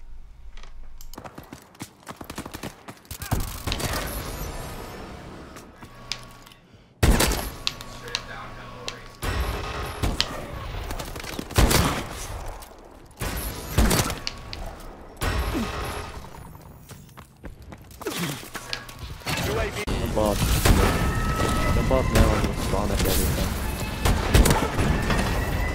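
Scattered video game gunshots and explosive bursts crack through a busy mix of game sounds and background music, some near and loud, others fainter, spread irregularly across the stretch with a few quieter gaps.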